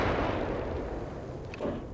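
Single gunshot in the video game Arena Breakout Infinite, a heavy boom from an RPK that opens the moment and rolls away in a long loud rumble and echo.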